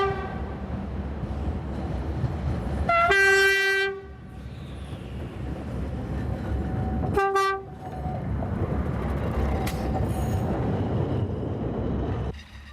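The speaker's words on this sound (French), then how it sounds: "Les X2000 poursuivent leur route jusqu'à Calvi" X2000 railcars on the Balagne line in Corsica running toward Calvi along the coast, the horn sounding loudly in two long blasts and a shorter toot over a steady rumble of the passing train, with no voices.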